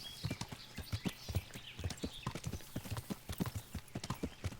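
A horse's hooves clip-clop at a steady trot in the video game Kingdom Come, a continuous rhythmic run of close, distinct hoof strikes with no talk over them.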